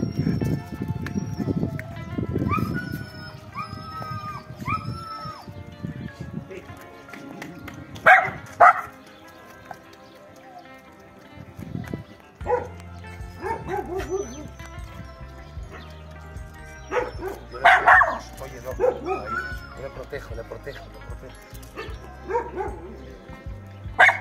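A dog barking in a few short bursts during a dog training class, with people talking at length between and over the barks.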